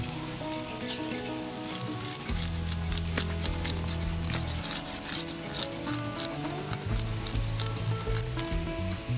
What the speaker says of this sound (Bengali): মাছের আঁশগুলো আমি প্রথমে ছাড়িয়ে নেবো